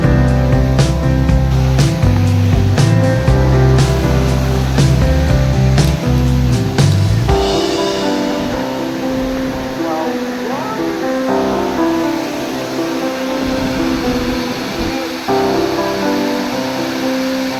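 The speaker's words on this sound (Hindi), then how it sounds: "देखो, यहाँ है मोस्ट फेमस कार्बी आंगलोंग में वाटरफॉल।" A famous waterfall in Karbi Anglong: a loud, constant rush of falling water fills the whole stretch, with someone talking over it and a brief heavier burst near the start.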